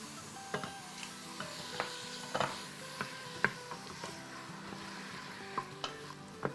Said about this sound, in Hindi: बस हमें इसे जब तक ही फ्राई करना है जब तक कि कलर वाइट ना हो जाए